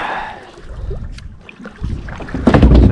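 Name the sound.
kayak paddle sweep strokes in water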